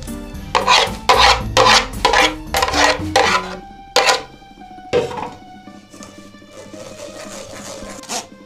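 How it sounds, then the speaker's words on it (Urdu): Homemade strawberry puree is worked through a sieve with a spoon, giving a series of loud scraping, rasping strokes against the mesh, each lasting roughly half a second, followed by quieter clinks and scrapes. "اب میں اسے چھان لوں گی"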